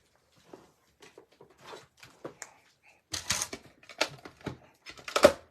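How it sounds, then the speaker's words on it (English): A die cut and emboss machine at a stamping craft session runs in a few loud, close mechanical bursts of cranking and clattering, after a quieter stretch of scattered handling clicks and taps. "Now I'm going to bring in my cut and emboss."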